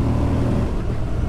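Moto Guzzi V100 Mandello motorcycle engine, a grunty unit with instant throttle response, revving steadily and loud throughout a short burst, with a dense low rumble.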